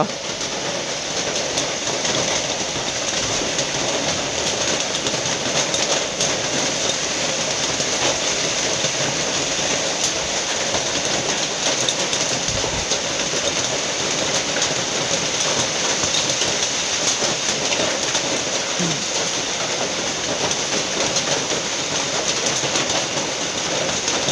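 Heavy rain pours steadily through the night over a pig pen where someone sleeps watching a sow, a dense, unbroken hiss that stays loud and even throughout with no voices.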